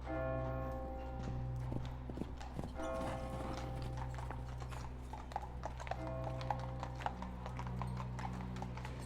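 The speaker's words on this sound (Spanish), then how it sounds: "Se veían algunos caballeros montando a caballo." Horses' hooves clip-clop on a street in Mexico, a repeated steady rhythm at moderate distance over a low continuous hum.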